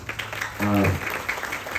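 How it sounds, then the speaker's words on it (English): An outdoor audience at a Ramayan in the park gathering applauds a group of orphans, a steady wash of clapping with a brief sustained voiced tone rising over it partway through. "Now I want you to give all these orphans a nice round of applause."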